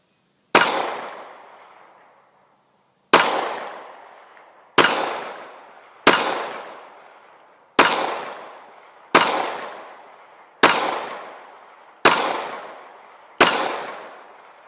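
Nine sharp, loud shots from a Smith & Wesson 9mm Shield pistol, fired singly at an uneven pace about one to two seconds apart, each crack close and ringing out briefly before the next.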